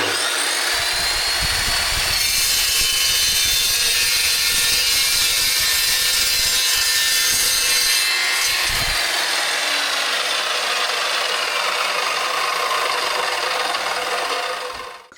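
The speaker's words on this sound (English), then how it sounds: "now we've got all our brackets cut to length" Continuous harsh sawing or rasping of a tool cutting solar panel mounting brackets to length, steady and loud for the whole stretch, fading out at the very end.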